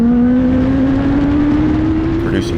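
A Rush SR race car with a 145-horsepower Suzuki GSX-S1000 motorcycle engine accelerating, its loud, close engine note climbing steadily in pitch as it revs up through the gear.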